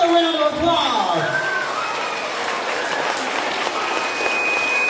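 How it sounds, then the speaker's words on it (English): Audience applause following an elementary school holiday reindeer production dress rehearsal, a steady wash of clapping filling the room for several seconds with a few voices and cheers mixed in. "Give them another round of applause."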